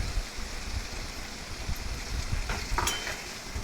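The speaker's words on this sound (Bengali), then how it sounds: "এই আধ ভাঙা সর্ষেগুলো এর মধ্যে আমি দিয়ে দেবো।" Half-crushed mustard seeds hit frying, sweetened pickle in a pan, giving a steady crackling sizzle with occasional stirring scrapes and louder bubbling spits near the end.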